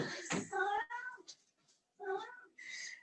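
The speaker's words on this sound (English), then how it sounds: "I've got a cat wanting to come in here." A cat wanting to come in meows repeatedly, with several drawn-out, clear meows close to the microphone in a quiet room and short pauses between calls.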